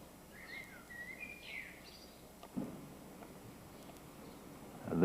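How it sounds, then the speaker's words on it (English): Birds chirping and twittering outdoors by a house on a cloudy, cool day, a few short calls rising above a quiet street background. "You hear the birds singing."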